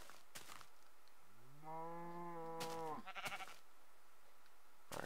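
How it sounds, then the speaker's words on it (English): A cow in the video game Minecraft moos once, a drawn-out low call that rises slightly and holds, with brief clicks and game noises before and after it. "I can hear another cow."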